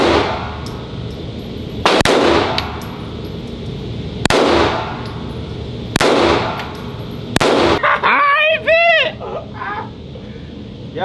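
Gun fired with heavy recoil: four loud, sharp shots spaced about two seconds apart, each with a ringing tail, followed by clanking, metallic ringing sounds, with no talking.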